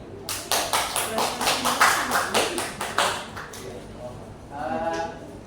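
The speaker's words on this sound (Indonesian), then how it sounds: "Tepuk tangan untuk Nak Sri." A burst of applause from a small group, steady rapid claps for several seconds before fading into a voice.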